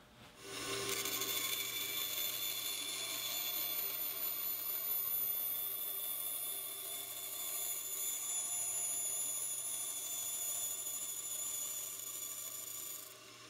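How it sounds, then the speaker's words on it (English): A bandsaw cuts a pattern line through wood for a bookcase leg, giving a continuous, steady high-pitched whine and rasp that runs loud and unbroken for most of the cut, with no talking. "cut that out on the bandsaw"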